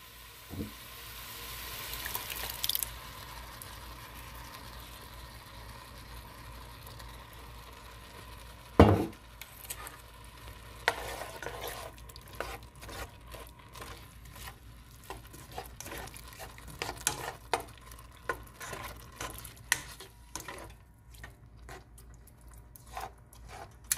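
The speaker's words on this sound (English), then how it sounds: "I'm gonna throw the ragu sauce" Ragu sauce poured into a pan with corn and butter and stirred, giving a soft steady sizzle with intermittent scraping and clinks of a utensil against the pan, close and moderately quiet.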